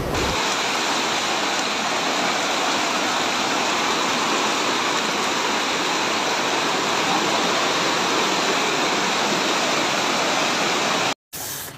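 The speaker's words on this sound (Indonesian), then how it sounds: "air dari box culvert yang di bawah ini, kan ada box culvert, itu airnya meluber keluar gitu loh, jadinya banjir" Floodwater gushes out of a box culvert on a stormy night in Surabaya, making a loud, unbroken roar of rushing water close by that cuts off abruptly near the end.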